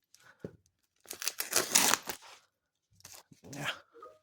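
Brown packing tape on a parcel of Pokémon cards is cut and torn open close by, a few short scratchy bursts and a longer ripping stretch, separated by quiet gaps.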